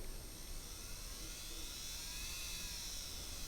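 An N gauge model locomotive's small electric motor whirs steadily while the engine stays stalled on the track, a thin continuous high whine holding level throughout with no talking.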